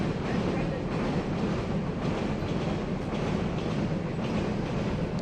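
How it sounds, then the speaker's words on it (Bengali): A freight train crossing the Naldanga bridge near Natore, a loud, continuous low rumble and rattle of wagons passing close by, with a steady rhythmic clatter throughout. "নলডাঙ্গা ব্রিজে ট্রেন পার হচ্ছে এই যে ট্রেন যাচ্ছে মালবাহী একটি ট্রেন"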